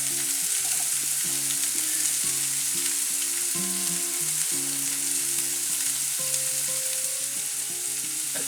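Onions and garlic sizzle in olive oil in a frying pan, a steady loud crackling hiss that fills the whole clip, with faint stirring clatter and kitchen hum underneath and no one talking.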